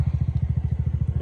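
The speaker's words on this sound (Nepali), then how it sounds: "त्यो स्कुटर त बन्द गरिदिनु" A scooter engine runs close by at idle, putting out a fast, even train of low thudding pulses with no pauses.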